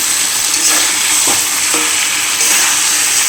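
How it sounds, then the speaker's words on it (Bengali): Taro greens curry with prawns being sautéed in a pan, a loud, steady close sizzle with a few soft stirring scrapes and no talking. "ভালো করে কষিয়ে নেব"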